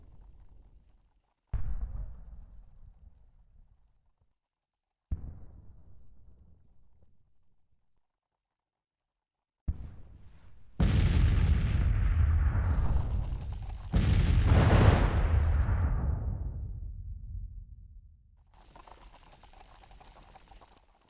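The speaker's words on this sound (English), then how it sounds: "I have to try and use my artillery as well" Booming artillery fire from a Grand Tactician battle set in 1863, with single heavy blasts that decay slowly at first, then a denser stretch of overlapping cannon booms and rumbling.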